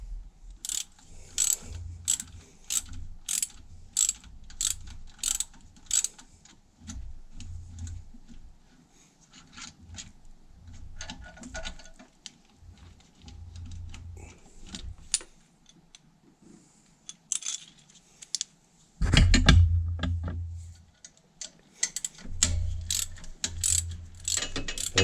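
A ratchet wrench unscrewing bolts while a car alternator is removed, rapid clicking runs of the pawl in repeated bursts close up, with a few heavier metallic clunks and thuds and occasional pauses.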